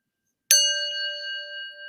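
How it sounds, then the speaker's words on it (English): A handheld gong struck once, ringing out after a sharp attack and sustaining a long shimmering tone with steady overtones that fades slowly, alone without talk. "Now, I got the gong in hand."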